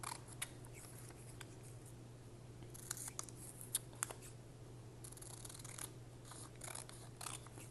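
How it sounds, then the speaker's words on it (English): Scissors snip through paper for a junk journal page, producing soft, faint close cuts and rustles in irregular bursts over a low steady hum, with no voices. "let's cut this out a little more"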